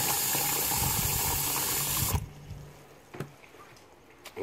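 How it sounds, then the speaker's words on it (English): Water pours from a tap into the base of a plant pot made from an old soda bottle, a loud steady rush for about two seconds that cuts off abruptly, followed by a few faint knocks and drips. "Put some water in there."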